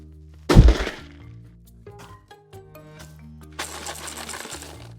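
A box is dropped and hits the floor with a sharp crash, then its loose contents rattle and clink in scattered bursts, followed by a longer shaking rattle near the end.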